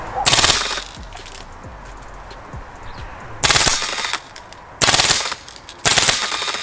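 Lancer Tactical M2 HMG airsoft gun firing full-auto bursts with BBs striking inside the barrel, four loud rapid rattling bursts separated by quieter pauses.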